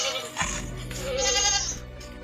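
Goats bleat alongside a strange chimpanzee-like creature latched onto one of them, a few close, wavering cries overlapping a steady low rumble for about two seconds.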